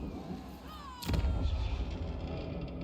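Queen's Curse cannon firing in Total War: Warhammer 3, a sharp blast breaking in after a quieter whistling lead-in, followed by a heavy rolling rumble that lingers and slowly settles.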